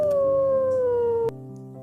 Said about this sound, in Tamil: ஓநாய், உல்ஃப்.